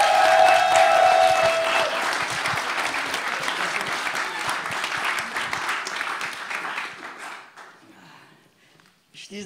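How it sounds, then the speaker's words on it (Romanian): A church congregation applauds a female pastor, a dense, loud wash of clapping that fades gradually toward the end. "Dar haideți de data asta o aplaudăm și pe pastor Eva, pentru că este extraordinar."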